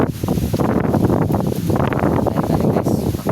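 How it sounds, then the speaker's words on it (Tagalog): Strong wind buffets a microphone on a boat in rainy, overcast weather, a loud, continuous roar with gusty surges and no speech. "Malakas yung hangin guys, palaging umuulan."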